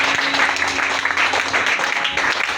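A church congregation at a deliverance prayer service breaks into loud, dense applause, sustained clapping from many hands filling the room for a couple of seconds.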